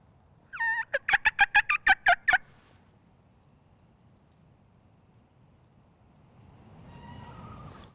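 A wild turkey in North Carolina gobbles once in answer to a call, a quick rapid burst of rattling notes, fairly close and clear, followed by quiet outdoor ambience and soft rain.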